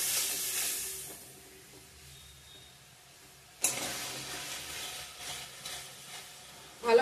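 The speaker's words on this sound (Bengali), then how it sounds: "ধনিয়া গুঁড়ো, লঙ্কা গুঁড়ো দিয়ে দিলাম। ভালো করে কষিয়ে নিব।" Ground coriander and chili powder frying in a pan, a soft steady sizzle with an occasional stir and clink of utensils, fairly close and quiet.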